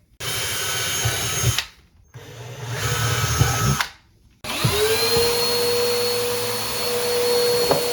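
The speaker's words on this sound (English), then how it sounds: "You want to pre-drill. We're using a 3/32 drill bit." A power drill with a 3/32 bit pre-drills screw holes for a cabinet pull-out trash bin, whirring in three bursts separated by short pauses, close and loud, with the last burst rising in pitch as it runs on.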